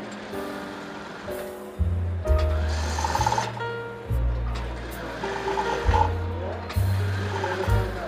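A sewing machine stitches a shirt seam in repeated short bursts, its motor humming and needle clattering up close, with brief pauses between runs.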